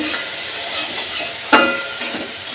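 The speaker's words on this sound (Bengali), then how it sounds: "এখানে পেঁয়াজ দিয়ে শাক ভাজা হচ্ছে পেঁয়াজের শাক ভাজা" Onion greens fry in a hot pan with a steady close sizzle, broken by a couple of sharper stirring scrapes and clatters near the middle and end.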